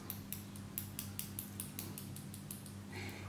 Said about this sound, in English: what you'll need next are the nail scissors